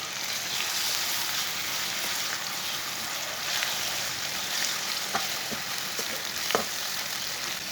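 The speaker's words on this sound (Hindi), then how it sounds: "कीमा डाल लेंगे। मिक्स कर लेंगे अच्छी तरह।" Minced keema frying in a pan with onions, a steady rain-like hiss of sizzling oil with a few sharp spoon taps as the meat is mixed.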